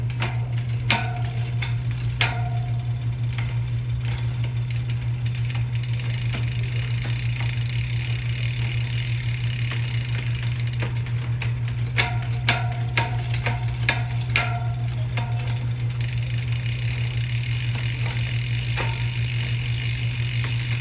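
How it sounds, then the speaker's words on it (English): A Walmart Ozark Explorer gravel bike's rear cassette is put through a shifting test, with a steady whirring drivetrain hum and bursts of quick mechanical clicks and ticks as the gears change, close and dry. "Here comes some shifting test right here."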